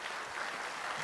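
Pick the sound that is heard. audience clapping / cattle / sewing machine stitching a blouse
audience clapping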